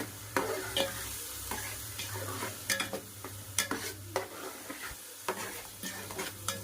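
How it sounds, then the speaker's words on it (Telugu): Onion paste frying in a pan for a fish curry, a continuous close sizzle with repeated scraping strokes and light clinks as it is stirred, no voices over it. "పచ్చివాసన పోయేంత వరకు ఆనియన్ పేస్ట్ అనేది వేసుకోవాలి."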